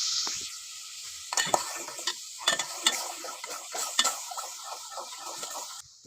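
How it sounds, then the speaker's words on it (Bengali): Milk and mango pudding is stirred continuously in a pot, with a spoon scraping and tapping the metal in an irregular rhythm over a soft bubbling simmer. "তো এখন অনবরত নাড়তে হবে।"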